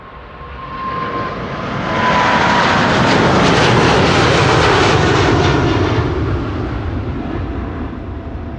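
A 22-year-old Boeing 777-200 airliner at Amsterdam Schiphol Airport roars past with loud jet engines that swell to a peak mid-way and then slowly fade, with no talking.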